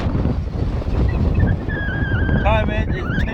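Strong gusting wind, around 30 mph, at Sotavento beach on Fuerteventura in the Canary Islands in November, roars and buffets the microphone as dense, continuous rumbling noise throughout.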